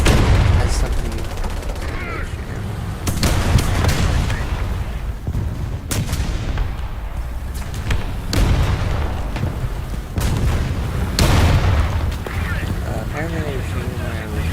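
Tank gunfire and booming explosions in the War Thunder video game with an M4 Sherman, repeated loud blasts at irregular intervals over rumbling battle noise, with a person talking between shots.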